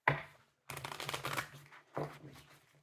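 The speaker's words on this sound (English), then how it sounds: "And 3 more shuffles." A tarot card deck is shuffled in bursts close to the microphone, with a short flurry, a longer riffling stretch, then a final brief shuffle, quiet overall with no talking.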